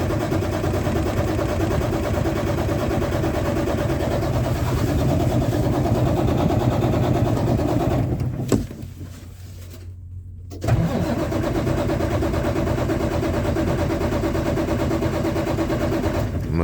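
A semi truck's diesel engine runs loud and steady, drops off for about two seconds, then catches and settles back into a heavy, even idle close by.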